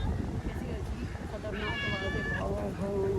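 Cats at a safari park in Karachi meow while being fed meat, one drawn-out cry rising clearly after a moment, then a shorter one, over a person talking and outdoor noise.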